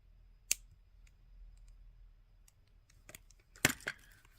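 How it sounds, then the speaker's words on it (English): Jewelry wire being snipped off with cutters while making a crystal moonstone necklace: a sharp click, a pause with small handling ticks, then a few more crisp snips close by, quiet and without speech. "now we'll cut the extra wire off"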